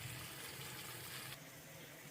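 Faint stream of water pouring into a container as water is measured for seeragasamba biryani, a soft continuous splash that stops abruptly partway through.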